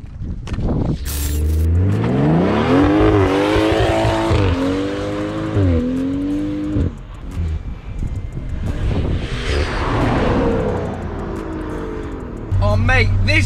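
A modified BMW with a turbo engine revving hard, pitch sweeping up and down through several loud, close pulls with fluttering turbo chatter, while a voice talks over parts of it.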